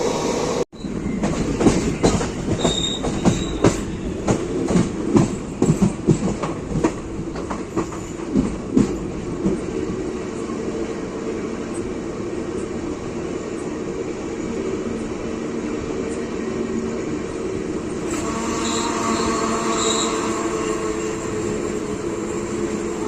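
A Tirupati–Coimbatore intercity express train rolls along the rails with rhythmic clickety-clack at first, settling into a steady loud rumble as it keeps running.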